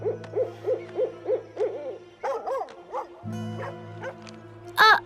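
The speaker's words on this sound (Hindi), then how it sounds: "वहाँ पर एक उल्लू घूम रहा है" Owl hooting in a cartoon: a steady run of about six even hoots, then looser hoots over a low droning tone and a sharp cry near the end, close and moderately loud.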